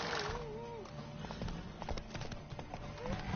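Horse hooves clip-clop at a steady trot in The Witcher 3 video game, close and rhythmic, with a brief whinny-like sound, game music and voices talking over it.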